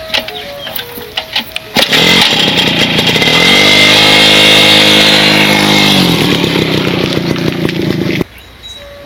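A motorbike engine is started and then revs loudly and steadily for several seconds before cutting off, with the whine rising and falling; a few faint sounds come before it.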